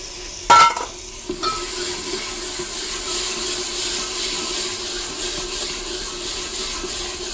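Tomato and green chili paste frying in a pan over sautéed onions for a dhaba-style black chickpea curry: a sharp clatter early on, then a steady sizzle with faint scraping that carries on to the end.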